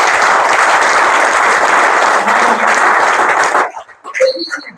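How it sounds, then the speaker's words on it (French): Seminarians at a theology faculty session give themselves a round of applause: loud, full crowd clapping that cuts off sharply after a few seconds, followed by brief speech. "Est-ce que tous les séminaristes peuvent donner une salve d'applaudissements"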